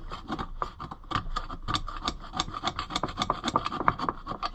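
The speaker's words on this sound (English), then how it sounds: "I think we need a little more scraping." Steady rhythmic rasping as a carburetor part from an Oliver 880 tractor is scraped by hand, close and even-paced strokes repeating continuously with no talking.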